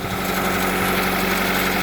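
Idling engine of a 1997-2001 Honda CR-V just after starting, following a PCV valve replacement; a steady, even hum with no whistle, close and continuous for about two seconds, no talk.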